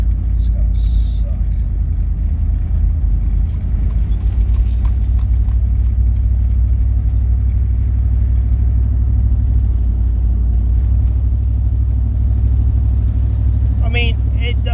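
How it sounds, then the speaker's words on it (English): Chevrolet Suburban engine idling with a bad exhaust leak, a steady loud low rumble that persists throughout, with faint clicks and a brief rattle near the end. "it sounds worse than it is because the exhaust leak"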